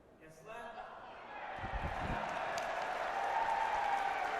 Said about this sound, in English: the crowd cheering at the referee's decision